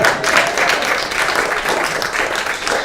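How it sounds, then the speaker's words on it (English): An audience at a Sunday gathering gives a steady round of applause, dense and even throughout, filling the room without pause. "I think we should give Wayne a round of applause"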